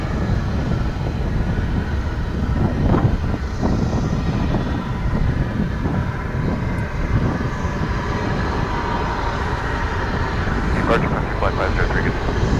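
American Airlines jet arriving on a runway at Dallas/Fort Worth International Airport, a steady loud broadband engine roar and rushing noise holding throughout, with no speech.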